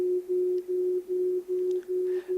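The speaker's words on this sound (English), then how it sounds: "So it's a pure wave, a sine wave." A pure sine tone standing for the colour range red to orange, a steady clean mid-pitched hum pulsing in regular repeated bursts with short dips between them, alone and moderately loud.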